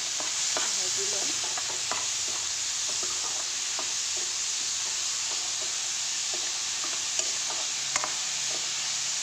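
Fish frying with salt, turmeric and chilli in a pan for an Assamese fish curry; a quiet, steady hiss with scattered small pops and scraping stirs.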